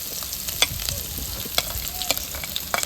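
Oil sizzles steadily as onions and chilies fry in a pan, with occasional sharp crackles and spatters and no talking.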